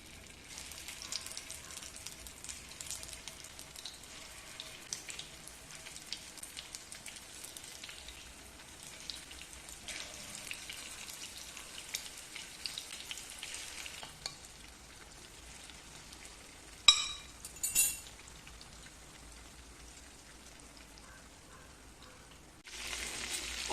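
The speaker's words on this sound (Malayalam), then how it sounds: "എന്നൊരു പാനിലേക്ക് കുറച്ച് ഓയിൽ ഒഴിച്ച് ചിക്കൻ പീസസ് ഇട്ട് കൊടുക്കാം." Chicken pieces fry in oil in a pan, a quiet, continuous crackling sizzle with a couple of brief clatters partway through.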